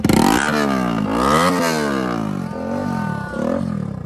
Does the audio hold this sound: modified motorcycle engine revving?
yes